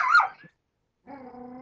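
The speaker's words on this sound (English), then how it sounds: "Alright, now that the barking is finished, we can continue." A Siberian Husky gives a loud, rough bark with a growl, then falls silent before a tonal, howl-like whine resumes and holds steady.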